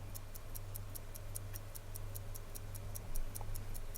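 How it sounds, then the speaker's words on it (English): Mechanical ticking of a 1960s Libelle wristwatch with an Ancre 17-jewel movement, a brisk even run of sharp close ticks over a low steady hum. "The mechanism is quite loud, as you can probably also hear in the spare moments when I don't talk."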